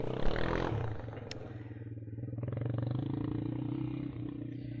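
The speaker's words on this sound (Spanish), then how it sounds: "andaba una persona en motocicleta" A motorcycle passes along a city street as a steady low engine drone that rises and holds, with a brief clatter early on; no one speaks.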